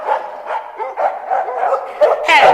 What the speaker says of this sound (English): Where did you get those dogs from?